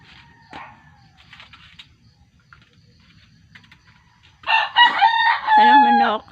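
After faint background clucks and tapping, a rooster crows loudly and nearby, its drawn-out call ending the clip.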